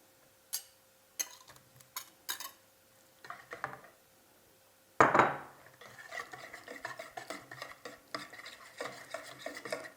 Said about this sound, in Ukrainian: Знов перемішали. Картоплю.